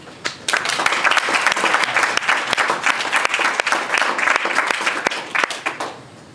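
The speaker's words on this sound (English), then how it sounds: "please a round of applause" A conference audience at The Creativity Conference in New York breaks into loud, sustained applause, with dense clapping that starts sharply, holds steady for about five seconds and then tapers off. No voices rise above it.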